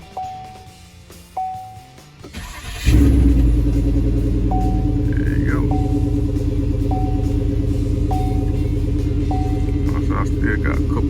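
A 2006 Chevrolet Impala SS with a freshly replaced starter chimes its key warning, then cranks and fires into a steady, close idle that rumbles on with the chime still repeating over it.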